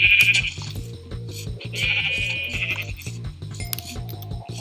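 A sheep bleats in a Minecraft-style video game, with a couple of clear, nasal bleats over a repeating rhythmic music loop.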